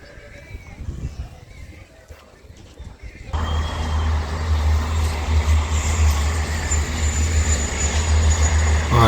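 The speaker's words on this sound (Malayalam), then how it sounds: "ഈ ഒച്ച കേൾക്കുന്നത് ട്രെയിനിൻ്റെ ഒരു റെയിൽപാളം ഇതിൻ്റെ തൊട്ടടുത്തോടെ ഉണ്ടോ ഇതിലൂടെ ട്രെയിൻ പോകുന്നുണ്ട്" After a few seconds a loud, low rumble of a small train passing on a nearby railway at Finkley Down Farm, Andover, rises and holds steady, with a faint high whine above it.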